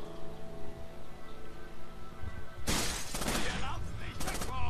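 Sudden bursts of gunfire in the video game Rainbow Six Vegas 2 break in after a quiet stretch with faint hum and speech, then continue as loud, sharp volleys.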